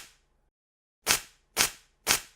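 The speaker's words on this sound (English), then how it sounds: "You may have heard this sound before because this is the sound of ripping up paper." Paper is ripped up in three sharp, quick tears about half a second apart, close and crisp in an otherwise quiet room, after a faint earlier rustle.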